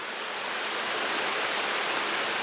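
Water flowing steadily through a forest, a dense continuous rushing wash with no pauses, even and moderately loud.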